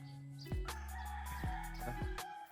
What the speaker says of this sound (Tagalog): tilaok ng manok nandun pa din